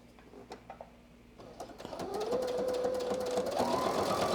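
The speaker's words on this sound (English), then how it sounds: "And now I'm going to sew" A sewing machine runs steadily while stitching the seam of a button-down shirt, starting after a quiet pause and holding a loud, even hum that shifts pitch near the end as the speed changes.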